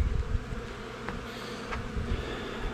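Bees buzzing over a hive comb where robbing bees from a hive above are fighting, a dense continuous insect drone close by with a few brief sharper flares, no voices.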